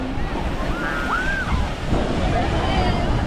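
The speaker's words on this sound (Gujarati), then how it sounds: "આ જોઈ લો, આ ઉમરાટ દરિયો." Sea waves wash continuously at Umbhart beach near Surat, a loud close surf roar mixed with wind buffeting the microphone, with brief voices faintly over it.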